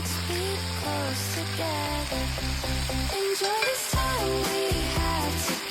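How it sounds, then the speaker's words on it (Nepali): Local home-grown tomatoes go into a sizzling curry pan, and a loud, continuous frying hiss runs throughout beneath prominent background music. "त्यसपछि मैले यसमा राखिदिएँ आफ्नै बारीमा फलेको लोकल गोलभेडा"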